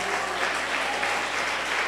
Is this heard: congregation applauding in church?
yes